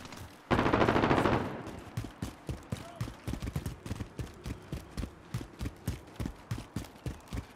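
Call of Duty: Modern Warfare gunfire opens with a dense, loud automatic burst, then breaks into a long series of separate sharp shots at an irregular but steady pace.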